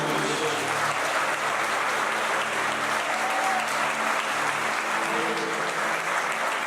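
A church congregation applauding steadily, a broad wash of many hands clapping at once, sustained and even for several seconds.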